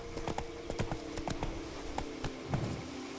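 Roach the horse gallops in The Witcher 3, with crisp, rapid hoofbeats clip-clopping in an uneven rhythm close by, set against a faint ambient bed.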